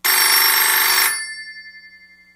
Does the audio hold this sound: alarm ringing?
yes